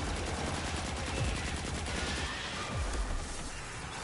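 Rapid continuous submachine gun fire in the Destiny 2 video game, a dense unbroken stream of shots with a couple of low swooping effects, close and loud throughout.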